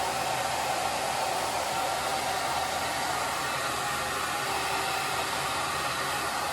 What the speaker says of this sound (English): So we got the hair dryer.